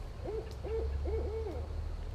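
An owl hoots outdoors at night near a hammock camp, giving three or four soft, rhythmic hoots at moderate distance over a low steady background hum.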